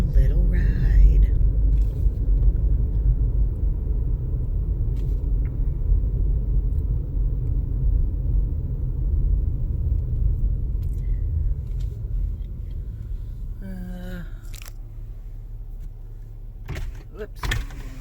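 A car rolls along a road toward a campground in Kentucky, a steady low rumble filling the cabin, with a few clicks and knocks near the end and no talk.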